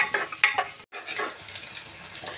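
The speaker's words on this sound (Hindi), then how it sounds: "मूंग दाल को अच्छे से फ्राई कर लेंगे, जो कच्चा स्मेल है वो निकल जाएगा" Moong dal fries in a pan as it is stirred, giving soft sizzling with scraping and clinking stirs and a brief gap; quiet and close, with no voices.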